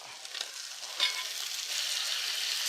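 Tomatoes go into hot oil with ginger garlic paste and green chili, and a steady close sizzle rises and grows slightly louder, with a brief stirring clatter partway through.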